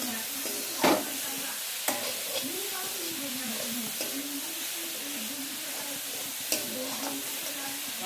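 A thick coconut mixture for coconut laddoos cooks in a wok with a soft, steady sizzle, broken by occasional scraping stirs of a spatula; a voice murmurs faintly underneath.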